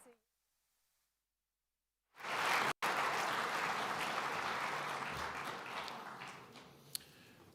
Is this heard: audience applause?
yes